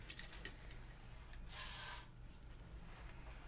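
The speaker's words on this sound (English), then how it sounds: "I'm going to spray my cup with the WD-40 silicone spray" WD-40 silicone spray hisses into a cup in one short, close burst of about half a second, over quiet background noise.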